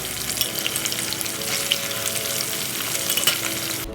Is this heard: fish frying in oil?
yes